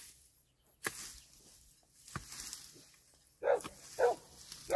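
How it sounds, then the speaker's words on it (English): Dogs bark in short, separate bursts outdoors, some distant and faint, then three louder, closer barks near the end during land clearing. "Oh, I hear dogs."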